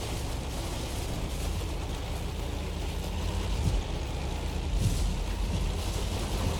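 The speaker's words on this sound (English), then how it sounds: "Look at all these tanks firing at him." Tank cannons firing in the World of Tanks video game: a couple of dull, heavy booms rise out of a steady, rumbling battle din, with no talking.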